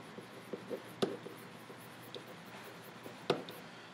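Pen strokes scratch across paper as a chemistry formula is written out by hand, faint and close, in short scattered bursts with a couple of sharper taps and no talking.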